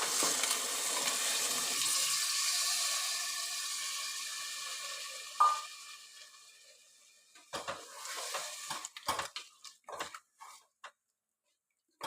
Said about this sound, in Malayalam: അപ്പം നമുക്ക് ബീഫ് ഇട്ട് കൊടുക്കാം. ബീഫ് ഇട്ട് കൊടുക്കാൻ പോവാണ്.